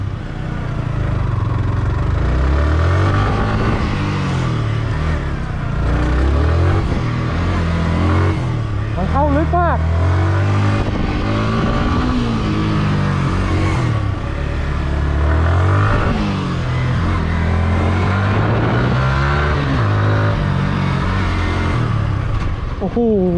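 Yamaha R15 motorcycle ridden hard by a racer, its engine rising and falling through repeated revs and gear changes, loud and close throughout.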